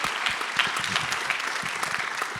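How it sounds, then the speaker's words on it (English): Audience applause at Liberty High School after a youth suicide prevention film event, dense steady clapping from a crowd, fairly close and continuous through the whole short stretch. "really want to give a big round of applause to Liberty High School"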